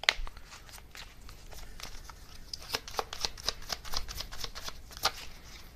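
Oracle cards are shuffled by hand in a quiet room, a close, crisp run of riffling and flicking bursts in uneven rhythm, building in density through the middle before tapering off.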